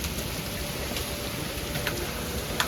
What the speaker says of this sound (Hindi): बारिश बंद हुई नहीं है